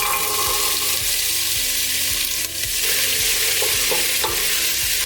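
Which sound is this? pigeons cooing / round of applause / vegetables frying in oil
vegetables frying in oil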